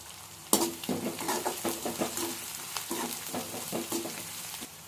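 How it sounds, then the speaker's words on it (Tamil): Chopped onions with curry leaves and green chilies sautéing in a pan for a vegetable white kuruma: a steady sizzle under repeated scraping stirs and clinks of a spoon against the pan, close and busy, with no voices. "ஆஃப் ப்ரௌனிஷா வர வரைக்கும் நல்லா வதக்கிக்கலாம்"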